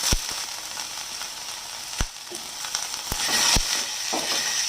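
Cauliflower frying in a pan with chopped ginger, onion and cashews, a steady broad sizzle with several sharp clicks of a spoon against the pan, loud and close, no voices.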